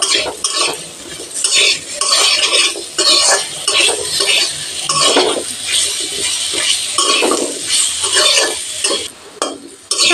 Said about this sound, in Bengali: আলু ভেজে নেব।